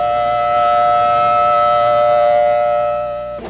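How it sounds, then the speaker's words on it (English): A civil defense tsunami warning siren in Hawaii sounds loud and close, holding one steady, unbroken wailing tone throughout before it begins to fade at the very end. "The first thing they did was coordinate the sounding of the sirens."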